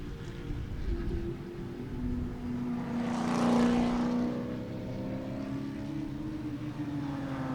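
A large prototype race car and other racers sweep past at Sebring, engines swelling to a loud peak near the middle and fading again, with steady distant track drone throughout.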